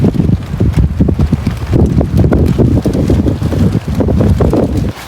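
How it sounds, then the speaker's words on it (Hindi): Strong, continuous wind gusting and buffeting outside a tent during a rainy night of camping, a loud rumbling roar with irregular flapping thuds throughout, heard alone without talk. "बाहर लगातार हवा चल रही है"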